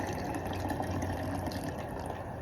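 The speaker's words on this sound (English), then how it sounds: "Pour it in the glass." A gin and grapefruit cocktail is poured from a shaker into a glass, producing a soft, steady liquid trickle that stays continuous and fairly quiet throughout.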